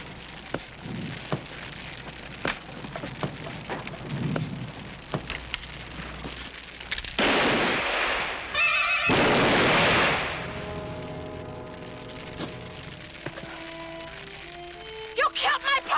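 A cannon fires with a heavy booming blast and rumbling explosion, followed by crackling debris and falling sounds, loud and close amid a dramatic Western scene with steady background noise.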